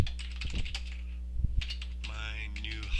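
Quick computer keyboard typing of a database query into a Hive table editor, close and moderately loud, with irregular bursts of keystrokes and brief pauses between them.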